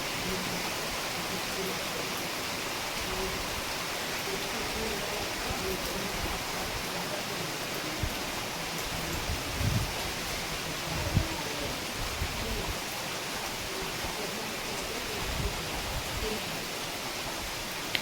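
Steady, even hiss of rain falling all around for the whole stretch, with a few soft bumps and faint murmurs underneath.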